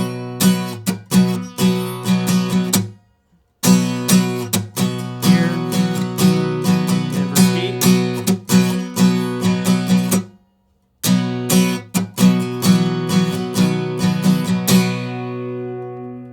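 Acoustic guitar strummed in brisk repeating patterns, with two short pauses between passages, ending on a chord left to ring; no voices.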